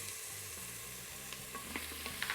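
Small onion, celery and minced garlic sautéing in a pot, a soft, quiet sizzle with a few light stirring taps over faint background music.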